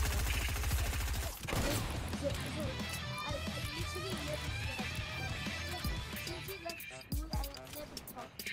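Fortnite gunfire rattles in dense, rapid bursts through most of the stretch, mixed with game sounds and voices talking over the action.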